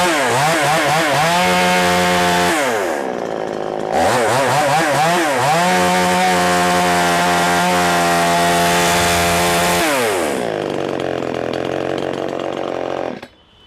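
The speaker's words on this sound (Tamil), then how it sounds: "மிஷினை ஓட்டியே காட்டுறேன் நான் உங்களுக்கு." A power tool machine in a Coimbatore tools market runs loud and close, its motor revving up to a high whine, holding, then winding down, in repeated bursts. No talk.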